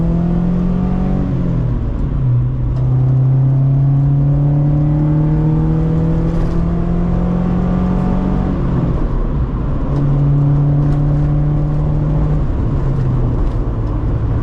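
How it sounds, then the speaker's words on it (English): A B18-engined Honda Civic with a Yonaka exhaust cruises along a highway, its steady exhaust drone rising and falling through gear changes and throttle shifts, loud and continuous with no talking. "so you can see what the Yonaka Exhaust sounds like"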